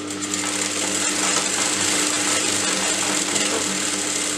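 A domestic sewing machine stitching steadily after its bobbin has been reseated in the bobbin case to cure thread looping, a close, continuous motor whir with rapid needle clatter, no talking.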